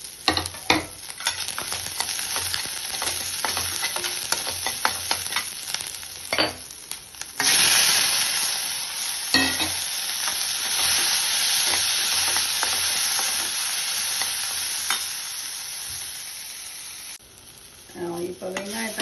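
Chopped onion and tomato sautéing in a hot pan, a continuous close sizzle with a spoon stirring through it, briefly quieter near the end before the frying noise resumes.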